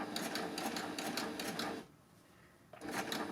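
A Baby Lock overlock machine fitted with a blind hem foot runs with a close, steady, rapid whirring stitch. It stops briefly and then starts again, with no talk.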